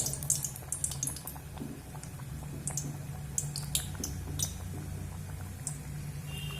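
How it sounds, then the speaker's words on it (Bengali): Lachha nimki sizzling in hot oil over a low-to-medium flame, a steady soft crackle with scattered sharp pops and bubbling, close and fairly quiet, with no talking. "এইভাবে দিয়ে লো টু মিডিয়াম করে ভেজে নেব, হাই ফ্লেমে কিন্তু ভাজবো না।"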